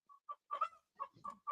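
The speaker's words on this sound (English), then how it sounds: "I can hear those chickens now." Chickens cluck in short, close bursts, several quick clucks in a row, faint in level with no talk over them.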